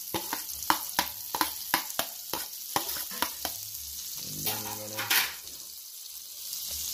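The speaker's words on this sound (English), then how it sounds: "we're gonna put some butter in the pot right now. Get that to melt. We're gonna add the garlic right away." Garlic sizzling in melted butter in a pot, with a run of sharp scraping taps near the start, then a soft steady fry and a brief splashy burst.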